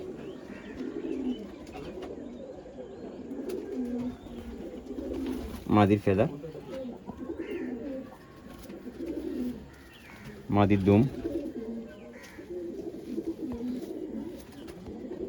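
Pigeons coo steadily at a show and sale, with someone talking over the birds throughout and two louder, brief bursts of sound standing out midway.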